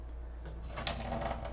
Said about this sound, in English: turn the faucet on to relieve the pressure off of the water lines